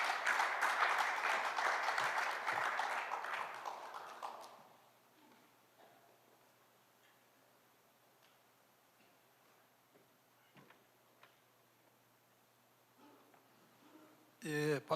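Audience applause at a business forum on corporate growth and social responsibility in Jeju, a dense roomful of clapping for the first four seconds that fades into a quiet hall, with a sharp burst of noise at the very end.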